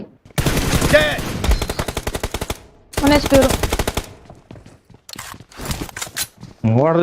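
Rapid automatic gunfire in a BGMI team deathmatch, including UMP and M4 rifles: several sharp, close bursts separated by short pauses, with a voice briefly heard between volleys.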